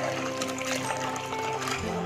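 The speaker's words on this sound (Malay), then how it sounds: "Saya juga masukkan air" Water, about 900 ml, poured into a pot of sugar while making a jelly drink, a steady splashing pour heard close up with a faint tonal hum underneath, continuous for about two seconds.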